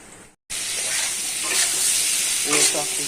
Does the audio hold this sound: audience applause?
no